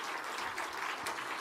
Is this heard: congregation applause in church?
yes